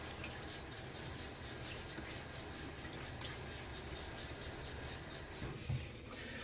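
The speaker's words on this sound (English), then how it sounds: "A little rinse on the face." Water splashes as a face is rinsed after shaving, a steady close running-tap wash at low level for several seconds with a slight dribble near the end, no talking.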